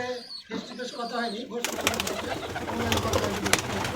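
A Giribaz flying pigeon coos in soft repeated notes, then the sound shifts to busy outdoor noise with flapping and a voice in the background.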